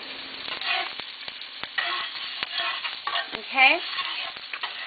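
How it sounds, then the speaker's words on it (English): Onions and green onions frying and being stirred in a pan for Jamaican corned beef, sausage and rice, with a steady close sizzle under repeated scraping and clacking strokes of a spoon; a voice briefly speaks. "going back to now stirring my onions and my green onions"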